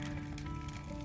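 Dry spring grass burns in the open, a faint, steady crackle and fizz like fine rain or sizzling, continuous with no voices.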